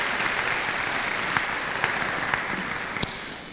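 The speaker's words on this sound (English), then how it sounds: "giving Ms. Crystal Hawkins a round of applause" An audience at a university pageant claps steadily in a sustained round of applause, with a few sharper individual claps standing out.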